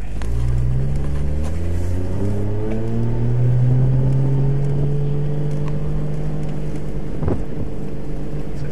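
A Toyota SC300 with a 1JZ engine revs as it is given gas with the clutch in and out, a loud, close engine note that climbs and falls in pitch, ending with a sharp knock.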